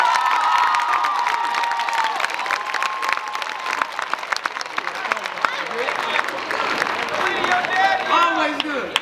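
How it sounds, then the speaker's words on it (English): Graduation crowd at a high school ceremony applauding and cheering, a dense continuous wash of clapping with shouts and whoops throughout, loud and sustained for the whole stretch. "Give yourselves a round of applause."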